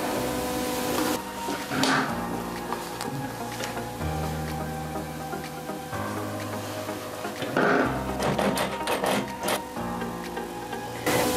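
A sewing machine topstitches the neckline of a knit T-shirt collar, its motor whirring in steady runs with brief pauses and changes in pitch, close and moderately loud, with no talking.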